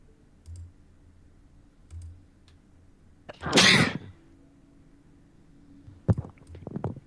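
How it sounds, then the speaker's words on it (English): One person sneezes during a tabletop role-playing session, a single sharp, loud burst midway through a quiet room, with soft keyboard clicks and light tapping before and after. "Who just sneezed?"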